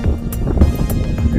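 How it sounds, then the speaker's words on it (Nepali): Strong gusts of wind sweep through a Himalayan village ahead of rain, with loud, low, rumbling buffeting on the microphone that rises and falls in steady surges. "हुरी बतास आउन लाग्यो। क्या हावाले"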